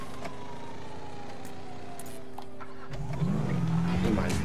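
Car engine in the GTA 5 video game, a low steady hum that swells louder and rougher in the last second and a half as the vehicle gets going, with faint game sounds behind.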